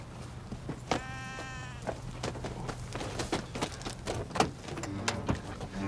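A sheep gives a drawn-out, wavering bleat close by, with scattered thumps and rustling from movement around it.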